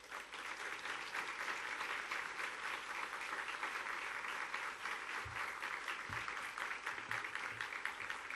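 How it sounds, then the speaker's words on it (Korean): A church congregation at a Sunday worship service applauds warmly to welcome a visiting pastor, with a continuous, even roar of clapping throughout. "우리 큰 박수로 환영하고 모시겠습니다."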